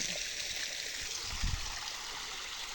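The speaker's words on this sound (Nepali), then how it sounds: "ओहो जापानिज झर्ना।" Water rushing steadily down a small artificial Japanese-style waterfall at Godawari, a continuous close broadband wash with a few low splashes and no talk.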